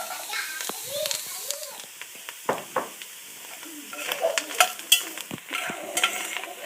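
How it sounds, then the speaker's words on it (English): Carrots and corn mince frying in oil for Iraqi Assyrian-style kabsa, with a spoon stirring and scraping the pan in irregular strokes over a soft sizzle, while a voice chatters faintly in the background. "And you stir it, and you stir."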